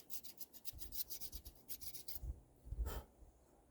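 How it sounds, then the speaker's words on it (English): A round file rasps against a corroded, rusty part of a Ford F250 in quick, close strokes. A short pause follows, then one more scrape. "Get after it with the file."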